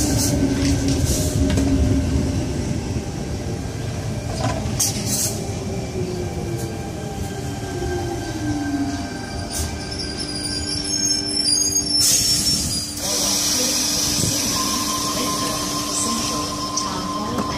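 A Sydney Tangara suburban train departing Kirrawee station toward Bondi Junction, rumbling steadily with rising motor whine, clanks and a high wheel squeal, heard close up and loud throughout.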